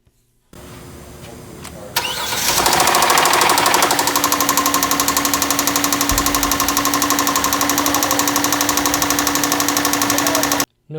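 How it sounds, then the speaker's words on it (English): A 2014 Hyundai Santa Fe 3.3 engine with a lower-end rod knock from a spun bearing cranks and starts, then idles loudly with a steady, rapid metallic knocking close by. "we fired up the engine and heard a lower end rod knock. Sounded like a spun bearing."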